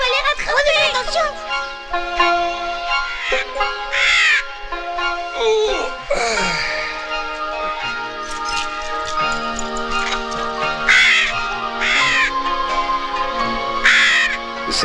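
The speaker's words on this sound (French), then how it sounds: "C'est un aigle chauve." A bald eagle gives several high, shrill cries at intervals over a dense, continuous layer of other sound, fairly loud throughout.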